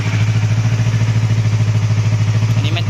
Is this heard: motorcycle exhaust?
yes